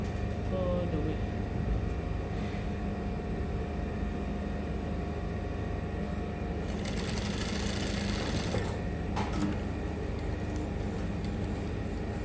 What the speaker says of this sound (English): top stitching it on the pocket bag